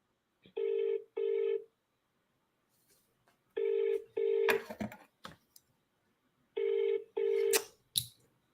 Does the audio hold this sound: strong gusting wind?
no